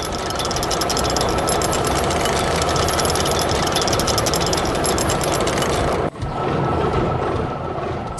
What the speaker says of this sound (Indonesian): Traktor merah sedang menggemburkan tanah dengan plownya